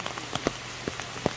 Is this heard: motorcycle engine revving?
no